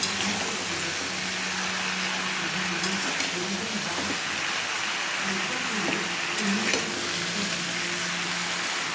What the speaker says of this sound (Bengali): দিয়ে সবজিগুলোকে ভালো করে নেড়ে ঢাকনা দিয়ে দেবো